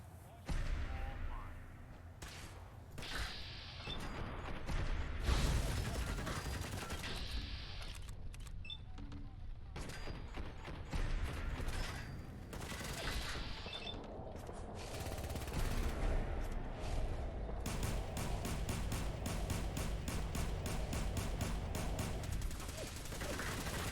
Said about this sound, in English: More gunners, who immediately open fire.